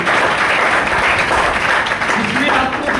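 Crowd applause at a company business plan presentation in Panipat, Haryana, a dense steady wash of clapping filling the whole stretch, with some voices mixed in.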